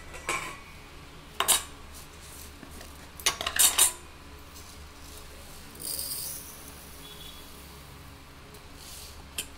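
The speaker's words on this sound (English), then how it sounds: "Here I'll put sugar and mix it properly" Eggs and sugar being mixed in a bowl for a black rice cake make a few short bursts of metal clinking and scraping against the bowl, separated by quiet stretches.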